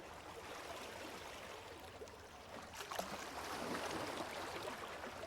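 Flowing water heard faintly in the background: a soft, continuous trickle and rush like a stream, growing slightly fuller toward the end, with no voices.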